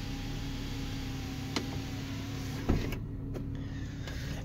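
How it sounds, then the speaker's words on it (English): Electric sunroof on a car closing, a steady quiet motor whine running under interior hum, ending with a soft thunk as it seats, with a couple of small clicks after. "The sunroof closes no problem"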